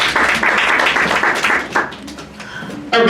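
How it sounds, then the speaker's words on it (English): An audience at a business event claps in a burst of applause that runs steadily for a few seconds, fades, and then picks up again briefly at the end. "please give them a round of applause."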